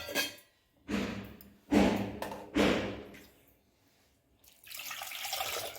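Water poured into a pot of rasam mixed with onions comes in three short splashy bursts, then settles into a longer, steadier stream near the microphone.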